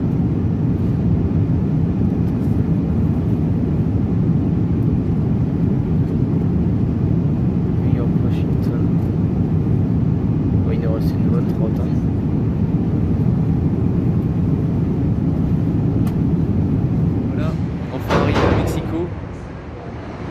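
Steady low roar of an airliner cabin in flight over New York, a broad constant rumble throughout with faint bumps and rustles near the end.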